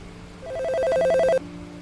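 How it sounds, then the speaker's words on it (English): A telephone rings as a radio drama sound effect in an apartment in the early morning: one clear electronic ring rises from about half a second and cuts off sharply near 1.4 seconds, leaving quiet room tone. No voices. "Graves answered the phone on the first ring."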